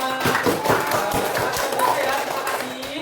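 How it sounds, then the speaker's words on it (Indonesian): A group claps their hands in a university classroom, the sound a bit uneven and sparse, mixed with some taps and a few voices in the background. "Kasih tepuk tangan buat semua."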